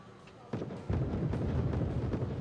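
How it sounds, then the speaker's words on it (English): Cannon fire in the real-time strategy game Wargame: AirLand Battle, a distant artillery boom arriving with a sudden jump into a sustained rumbling roar that keeps going, with a few smaller pops over the top. "Alright, they're firing the other cannon."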